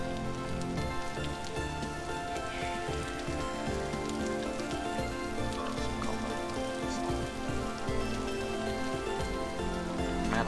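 Steady rain in the Minecraft world pours down without a break, a dense, even hiss of drops that stays at the same level from start to finish, with no voices over it.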